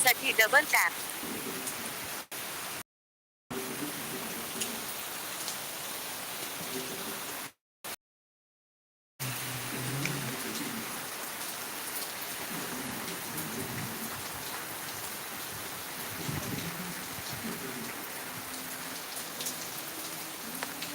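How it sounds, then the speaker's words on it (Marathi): Heavy rain pours down steadily on surfaces in a dense, even patter, broken twice by short dropouts in the sound. "बघा कसा पाऊस पडतो आमच्याकडे"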